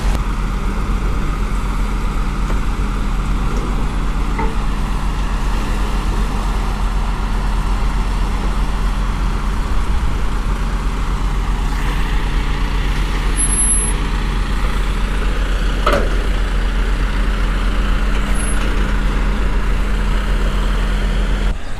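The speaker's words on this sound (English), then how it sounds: "This is our recovery truck." A large recovery truck arrives at a broken-down campervan, its heavy engine droning steadily and loudly throughout, with faint hiss and clank from air brakes and roadside traffic, no voices.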